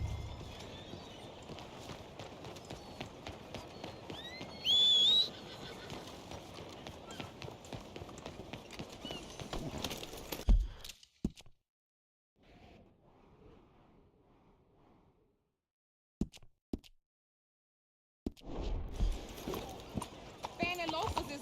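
Horse hooves clip-clopping in the video game Red Dead Redemption 2, a brisk rhythmic patter under a voice and game ambience, then dropping out to near silence before resuming.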